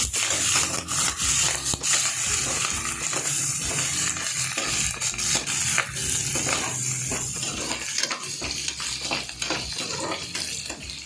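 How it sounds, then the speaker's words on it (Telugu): Green chilli and onion pieces frying in oil in a pot, a constant close sizzle with repeated clanks and scrapes of a spoon against the metal while stirring. "పచ్చిమిర్చి ముక్కలు వేసుకుందాం, అలాగే ఉల్లిగడ్డ ముక్కలు కూడా వేసేసుకుందాం. ఇప్పుడు వీటిని కూడా బాగా ఫ్రై చేసుకుందాం."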